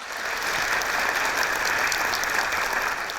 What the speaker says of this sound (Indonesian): Jadi kita berikan aplaus yang meriah untuk Prasetya Mulia.